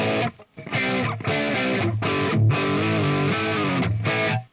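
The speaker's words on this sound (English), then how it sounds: "So here's a dry Marshall sound." A dry, distorted electric guitar through a Marshall amp plays a riff of chords and notes with brief gaps, close and loud, with no echo or reverb tail.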